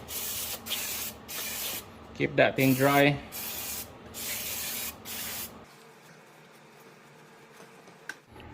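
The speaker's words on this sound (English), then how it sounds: "Grab a brake clean spray." Several short hissing bursts of a brake cleaner aerosol spray can, separated by brief pauses, while prepping an Audi 2.0T engine, with a person speaking briefly partway through; quieter room tone follows.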